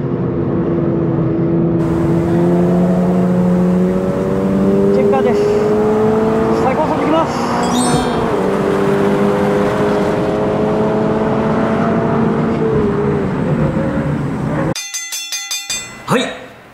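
A Toyota 86 / Subaru BRZ accelerates hard toward top speed on a circuit, its engine note climbing steadily through the gears at close range. The sound is loud and continuous, then cut short by a brief burst of clicks and chimes near the end.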